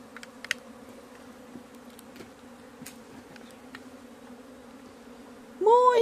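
Honeybees swarm around a wooden apiary hive box, a steady close buzzing drone throughout with a louder burst of nearby wingbeats at the end.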